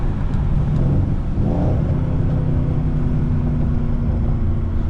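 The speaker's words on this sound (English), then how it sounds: "It ain't illegal to downshift though." Mercedes C63 AMG engine heard from inside the car on a winter drive, a loud continuous low rumble with a short rise in revs near the start during a downshift.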